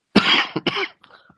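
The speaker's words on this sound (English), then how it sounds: "forgive me for the cough" A single harsh cough from a sick person, close and loud, followed by a short second cough and a faint breathy throat sound.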